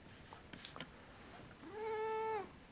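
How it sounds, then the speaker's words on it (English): A pet cat named Sneaky gives a single clear, drawn-out meow close by, after a stretch of faint background sounds. "I guess we're gonna have to quickly say hi to my kitty"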